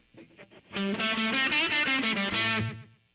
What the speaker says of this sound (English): you will hear how the delay effect changes